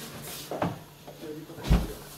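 A door slams with a heavy thud near the end, after a couple of lighter knocks and rattles from handling, in an indoor space with a faint voice in the background.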